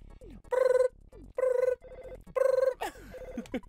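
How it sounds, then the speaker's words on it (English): Repeated telephone ringing from the Earthbound video game, three bursts of electronic ringing separated by short pauses, with game music and effects underneath. "Moops answered the phone."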